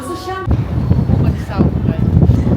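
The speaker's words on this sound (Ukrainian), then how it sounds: "Вітер капець." Strong mountain gusts buffet the microphone with a loud low rumble at about 1,535 metres in snowy Triglav National Park, Slovenia, while a person speaks over the roar.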